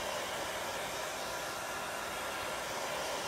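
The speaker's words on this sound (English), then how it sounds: "Just hitting it with my hair dryer because I'm going to layer it," A hair dryer blows on wet chalk paste layered through a stencil, giving a steady, close, loud broadband whoosh with no breaks and no voices.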